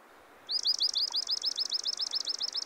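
Common yellowthroat singing near a marsh, a rapid, bright, repeated chirping phrase that starts abruptly and runs on steadily, close and clear over soft background hiss.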